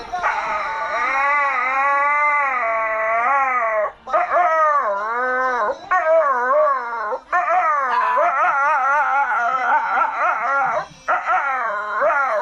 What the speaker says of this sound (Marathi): बघला मित्रांनो कुत्रा गाणी बोलतोय